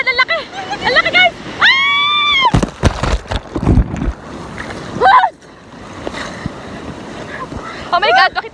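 A small boat rides high ocean waves, with gusts of wind and rushing water under excited shouting and screaming from people aboard.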